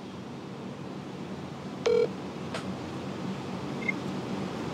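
A phone keypad dials out with one short burst of stacked tones, followed by a thin click and a faint blip, over steady background hiss in a quiet room.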